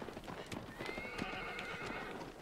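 A horse in Shadow of the Colossus whinnies in a long drawn call while its hooves clop steadily underneath, close and moderately loud against ambient game sound.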